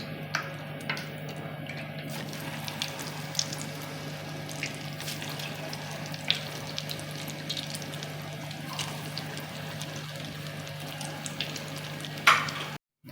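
Chicken cheese balls deep frying in oil, a faint, continuous bubbling sizzle with a steady low hum underneath and scattered small pops and clicks throughout.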